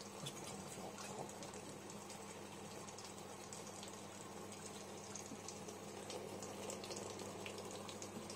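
Water spraying inside a Cookology CMDW2BK dishwasher: a steady, continuous hiss and splash of jets with a low pump hum underneath, even and unbroken throughout.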